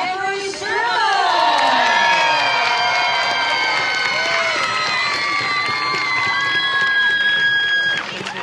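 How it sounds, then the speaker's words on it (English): A crowd at the men's series prize-giving of a Super League Championship finale cheers, whoops and applauds loudly and continuously, with shrill shouts and piercing whistles over the roar before it eases slightly at the end. "a big round of applause, please, for HENRI"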